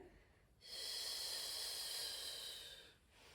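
A single long hissing S-shaped exhale during a Pilates twist, close and breathy, rising sharply and holding for about two and a half seconds before fading.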